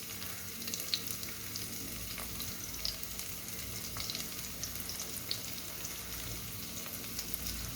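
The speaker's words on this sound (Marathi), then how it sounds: "लसूण आणि जिरे चांगले लाल होऊ द्यायचं।" Garlic and cumin seeds fry in hot oil for a spring onion greens dish, giving a steady, dense sizzle with faint scattered pops and light stirring taps throughout.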